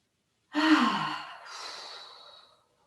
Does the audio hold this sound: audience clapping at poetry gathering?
no